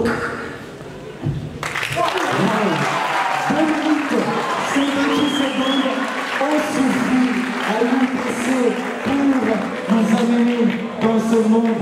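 An audience at a French debate on artists breaks into sustained applause that starts suddenly and keeps a dense, even level of clapping for over ten seconds, with voices and cheers mixed in.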